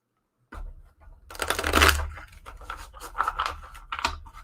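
A deck of cardboard tarot cards is shuffled close up, giving a dense papery riffle with a loud burst and then several shorter rustling flicks and taps. No one speaks.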